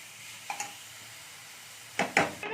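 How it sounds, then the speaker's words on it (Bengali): Carrots are stirred in a pan, giving a couple of light scrapes, then a pause of soft background hiss, then two louder, longer scrapes of the utensil against the pan, close by, with no talking. "এবার আমি গাজরটা নাড়তে রয়েছি"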